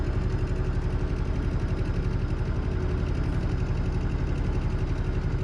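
A canal boat engine chugs steadily at close range, a low rhythmic throb with an even pulse that holds constant throughout, with no voices.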